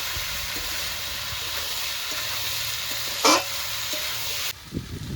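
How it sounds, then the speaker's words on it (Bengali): Boiled peas and potatoes sizzle steadily as they are sautéed with spices in a pan for ghugni, a continuous hiss with a brief scrape of stirring and a quieter stretch near the end. "মটর সেদ্ধ আলু সেদ্ধটা দিয়ে দেবো মটর আলুটা দিয়ে ভালো করে মশলার সঙ্গে কষিয়ে নেব"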